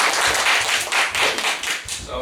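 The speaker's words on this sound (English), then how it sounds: "Let's give a round of applause for Steven." A small audience clapping for speaker Steven after his talk, separate sharp claps in a loose uneven rhythm, with a voice murmuring faintly underneath.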